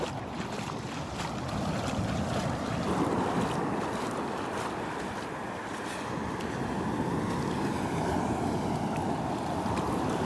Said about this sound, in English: I want to get closer to where these waves are breaking